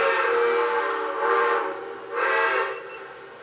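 A steam whistle from a model locomotive blows steadily, swelling louder in two long pulses over a continuous hiss, with no talking.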